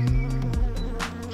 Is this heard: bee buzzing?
yes